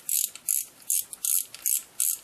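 A fishing reel is unscrewed by hand with a run of about six quick, evenly spaced ratcheting clicks. The sharp, dry clicking is close and clear, with no voices.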